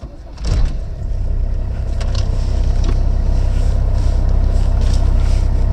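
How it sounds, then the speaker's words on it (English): An Audi 100 C3 Avant's non-turbo five-cylinder diesel fires up with a brief burst, then settles into a steady, close, rumbling idle that fills the rest of the clip. "you can tell it's a diesel. Lovely 5-cylinder warble, as you might expect"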